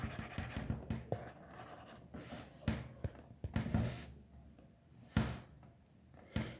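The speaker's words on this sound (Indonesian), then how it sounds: "bentar saya hapus dulu" Someone wipes writing off a board during a lesson, with soft scattered rubbing strokes and light knocks, quiet and close.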